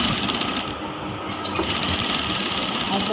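A sewing machine stitches the shoulder seam of a simple top, backtacking at the start, with a steady, dense mechanical whir running continuously and fairly close throughout.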